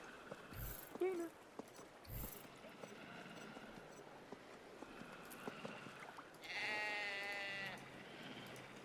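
A goat in the video game Once Human, on an animal farm base, lets out bleats among faint game ambience, with a longer wavering bleat near the end and soft background noise throughout.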